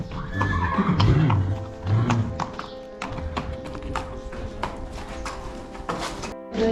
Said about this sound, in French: Les chevaux ne sortiront pas.